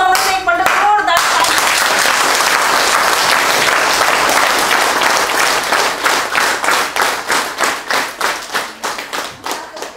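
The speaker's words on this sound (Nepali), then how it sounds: "ताली बजाउनु बजाउनुहोस् एकपल्ट जोरदार।" Loud, dense clapping from an audience of teachers, sustained for several seconds and then slowing into a run of spaced, rhythmic claps; a brief voice comes at the start.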